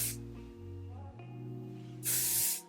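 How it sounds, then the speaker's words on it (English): Beauty Works dry oil spray misted onto styled hair, two short hissing bursts, one at the start and a louder one near the end, with a quiet pause between them. "I'm gonna take my Beauty Works dry oil spray, and I'm just gonna spray the style"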